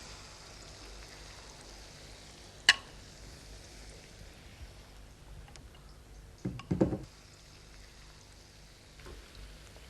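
Malpua batter frying in hot ghee: a faint, steady crackling sizzle like light rain, broken by a sharp tick and a brief louder spatter.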